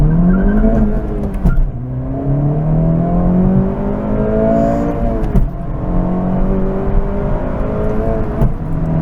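A 2024 Acura Integra Type S with a manual gearbox in sport mode, driven at night, has its engine revved up to about 2,500 RPM. Its loud, close drone climbs and falls through several rising pulls, with brief breaks between shifts.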